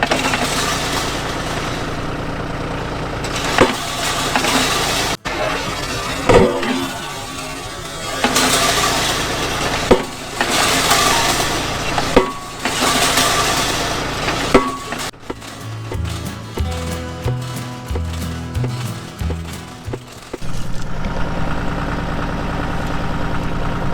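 A tractor engine runs near a fence post being driven for a pipe gate installation, a steady mid-low rumble broken by loud thuds and knocks, with a stretch of choppy, uneven engine pulsing toward the end.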